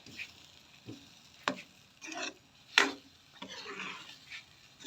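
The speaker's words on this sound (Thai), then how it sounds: "เสร็จแล้วก็คนๆลงไปค่ะ คนๆรอให้ไข่ผักสุกนะคะ" A spoon stirring wolffia into Thai green curry with pork in a pot, giving quiet, irregular scrapes and clinks with soft bubbling between them.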